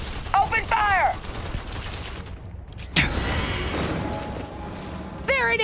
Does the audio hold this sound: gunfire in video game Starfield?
yes